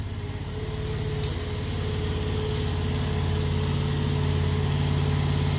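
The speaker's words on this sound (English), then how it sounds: "That motor's just at idle." A motor on a 5-tonne crane trailer idles steadily, a low, even, continuous rumble held close and constant throughout with no change in pace.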